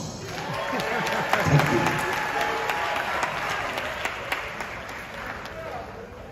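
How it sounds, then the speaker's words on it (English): Audience applause at a live comedy show with a band, a broad steady wash of clapping and crowd noise that runs throughout, with a voice briefly speaking over it. "A big applause."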